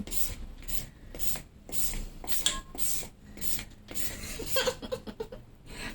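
A new papaya grater shreds papaya in repeated rhythmic rasping strokes, close and moderately loud, with short pauses between pulls and faint background noise.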